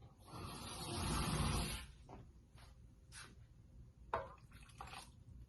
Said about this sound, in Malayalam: ഞാൻ ഈ തേങ്ങാപ്പാലിനോട് ഒഴിക്കാം